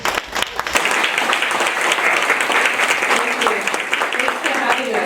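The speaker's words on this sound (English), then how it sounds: "Let's give Kim a round of applause." Audience applause for the commandant of the Veterans Home in Tilton, a dense, steady round of clapping from a sizable crowd that carries at full strength from start to finish after a brief quieter moment at the opening.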